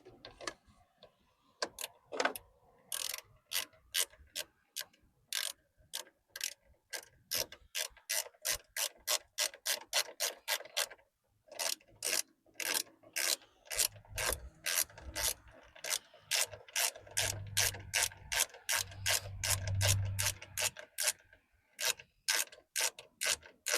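A hand ratchet clicks in long quick bursts while tightening a part on a Volvo S60, close and crisp, with short pauses between runs of strokes and a low hum underneath in places.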